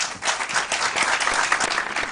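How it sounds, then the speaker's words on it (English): A studio audience at a school quiz show bursts into brief, dense applause, loud and steady throughout. "All right, round of applause"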